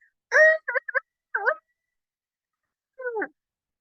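A person's voice imitates a rooster crow in short choppy bursts, then one final drawn-out call after a pause, with silence between.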